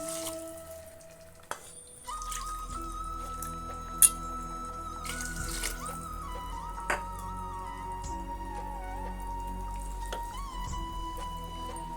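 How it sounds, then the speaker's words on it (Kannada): Two cups of water poured over one cup of soaked ordinary rice in a cooker, with a continuous close trickle and splash and a few brief knocks, no talking. "ಎರಡು ಕಪ್ ನೀರು ಹಾಕ್ತಾಯಿದ್ದೀನಿ"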